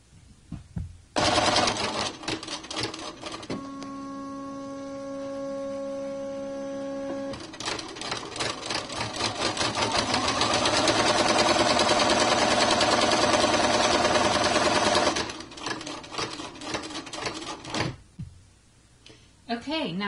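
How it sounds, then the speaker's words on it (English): Embroidery machine stitching placement lines for a can koozie in the hoop: a loud rapid mechanical chatter starting and stopping, with a steady pitched hum in the first part and a dense stitching run through the middle, then brief mechanical clicks. "we're going to stitch the first round of stitching, and these are the placement lines for the koozie"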